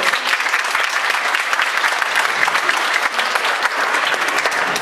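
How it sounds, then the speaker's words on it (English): A seminar audience at a Cape Cod realtors' flood zone event gives a round of applause, dense continuous clapping from many hands, loud and close, lasting the full few seconds. "I think that deserves a round of applause."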